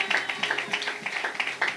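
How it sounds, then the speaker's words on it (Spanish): A congregation at a Spanish-language church service claps together, with close, regular rhythmic clapping at a quick steady beat and no pauses. "Denle un aplauso fuerte al que vive"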